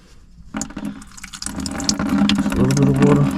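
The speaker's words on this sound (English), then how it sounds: "I'm gonna open the pitcock one more time, see if any more water comes out." Water trickling then running steadily from an opened drain petcock on a 1987 Peterbilt 362 junkyard truck with a CAT 3406B engine, close by and growing fuller as the flow increases, with no talking.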